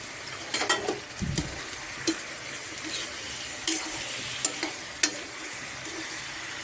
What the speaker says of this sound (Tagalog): Nagigisa na po sa sarili niyang mantika.